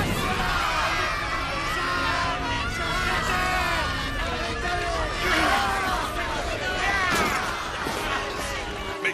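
An anime crowd clamors at a witch burning, a loud, dense mass of shouting and cheering voices with yells rising and falling throughout.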